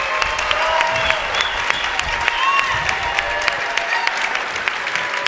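An audience claps in sustained applause, a dense crackle of many hands that holds steady throughout at close range, with no talk over it.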